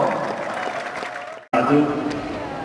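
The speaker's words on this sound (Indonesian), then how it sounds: "sekali lagi tepuk tangan untuk CEO ASTI Agri, Bapak Arif Budianto" A stadium audience at an anniversary event in Kendal claps for a company CEO; a broad spread of applause with an announcer's amplified voice over it, cut briefly by a short dropout midway.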